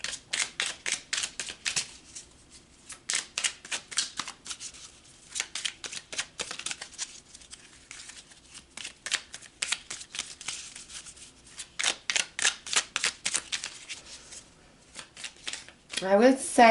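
Tarot cards shuffled in rapid riffling bursts of crisp papery flutters, repeating in clusters with short pauses, close and clear, ending with a brief louder swish.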